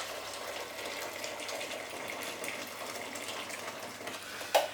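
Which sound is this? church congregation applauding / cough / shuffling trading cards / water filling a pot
water filling a pot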